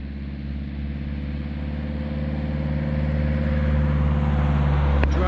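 A car engine hums steadily and slowly grows louder as the car passes nearby, a smooth low drone with no talking.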